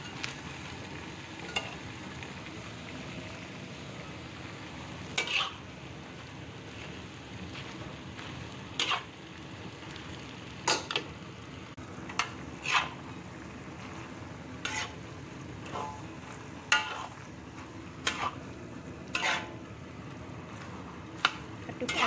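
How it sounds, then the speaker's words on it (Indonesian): Vegetarian Shanghai-style food is stirred in a pan, with quiet repeated scrapes and clinks of a utensil at irregular intervals over a faint sizzle. "aduk-aduk sampai warnanya merata ya."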